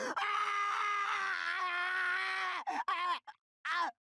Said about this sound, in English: All my blood went cold at that ear-splitting scream of agony.